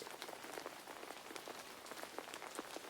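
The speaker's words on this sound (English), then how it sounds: "The rain pitter-pattered on the material of the umbrella" Rain pattering on the fabric of an umbrella, a dense continuous patter of soft close drops, gentle and steady throughout with no voices.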